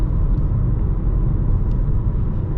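A BMW M4 G82 on Cobra height-adjustable suspension cruising in comfort mode, heard from inside as a steady, loud low road rumble and engine drone with no talk.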